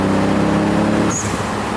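Twin-turbo Nissan 300ZX with a 500 hp engine idles close by with a steady low rumble; its tone changes slightly partway through.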